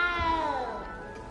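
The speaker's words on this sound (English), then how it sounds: "You don't need to be frightened, little cat." A small cat meows in the Hogwarts Legacy video game, one drawn-out, wavering cry that rises and then slowly falls, heard close and clear over a low game ambience.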